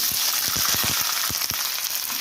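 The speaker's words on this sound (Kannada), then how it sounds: "ಉದ್ದ ಉದ್ದ ಕಟ್ ಮಾಡಿರೋಂಥ ಈರುಳ್ಳಿ ಚೆನ್ನಾಗಿ ಫ್ರೈ ಮಾಡ್ಕೋಬೇಕು" Long-sliced onions and chopped garlic fry in hot oil in a pan, producing a loud, continuous sizzle with quick crackling pops close to the microphone.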